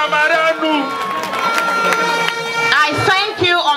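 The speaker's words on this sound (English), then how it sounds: "Please clap for yourselves." At a large NDC political rally in Nima, the crowd cheers and claps loudly, with shouts, whistles and sustained tonal voices rising over scattered clapping in a noisy open-air mass.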